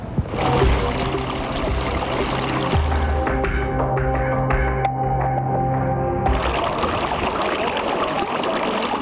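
Sewage water pouring and trickling out of house drains into a residential street, a steady continuous flow with some brief splashing, heard alone without speech.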